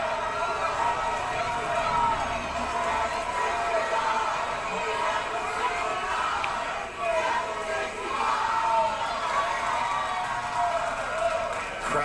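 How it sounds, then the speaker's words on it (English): A game show studio audience chanting together during a pricing game, a dense, sustained crowd roar of many voices that stays loud and steady throughout. "Crowd chanting"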